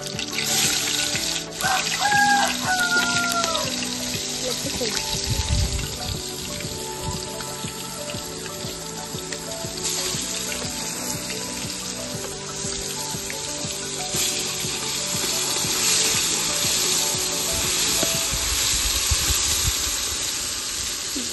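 Large onion pieces frying in hot oil in a pan, a dense continuous sizzle and crackle heard up close, with occasional clinks and stirring sounds over the top.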